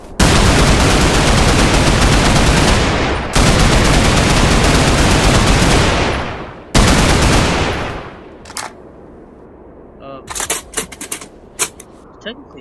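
Three long bursts of rapid automatic fire from a modernized RVK rifle in the Roblox shooter Blood Debt, loud and continuous, followed by clicking and clattering reload sounds.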